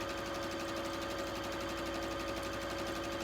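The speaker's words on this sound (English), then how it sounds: "we're just going to sew this together with a 1/4 inch seam or a scant 1/4 inch" A sewing machine stitches strips of fabric together with a scant quarter-inch seam. The steady, even mechanical whir runs faint and unbroken with no one talking.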